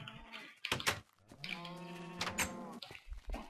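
Several sheep bleat in a Minecraft world, with short nasal calls at a moderate level in close succession and nobody talking.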